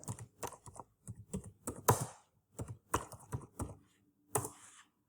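Name being typed on a computer keyboard for a LinkedIn custom URL, heard as several quick bursts of close key clicks separated by short pauses, with no talking.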